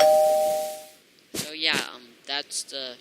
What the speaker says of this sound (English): You can get a doorbell